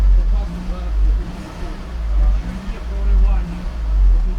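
The engine of a used Skoda Octavia A5 revs to around 2000 rpm, a deep, close rumble that rises and falls in slow swells while people talk nearby.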